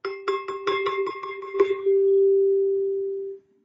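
A metal xylophone in a percussion lesson rings out as several quick mallet strikes build into one sustained bright tone that lingers alone for almost two seconds, then cuts off abruptly when damped by hand.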